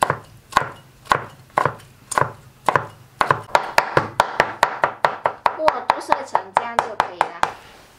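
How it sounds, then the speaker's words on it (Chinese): Soaked wood ear fungus chopped with a kitchen knife on a cutting board, first in slower single strokes and then in a fast, steady run of close, crisp knife chops. "将木耳切碎，先切成木耳丝，再改刀切成碎末"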